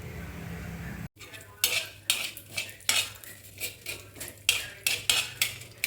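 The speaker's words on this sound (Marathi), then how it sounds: "आता मी हे जास्त असल्यामुळे या पातेल्यात घालते" Several quick clinks and clatters as small pieces of cut raw amla (Indian gooseberry) drop one after another into a metal pot, with short pauses between.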